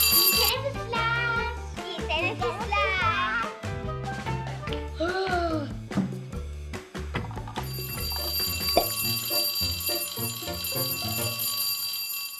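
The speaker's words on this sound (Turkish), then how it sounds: "Zil çalıyor." A school bell rings steadily for several seconds, loud and close, with children's voices and music mixed in beneath it.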